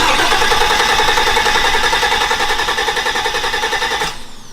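A supercharged Trans Am sleeper engine cranks in a loud, rhythmic chugging pulse, then cuts off abruptly near the end.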